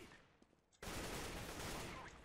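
An AWP sniper rifle fires in a CS:GO match, bursting in suddenly after a quiet stretch and leaving a loud, sustained crackling roar of gunfire that lasts to the end.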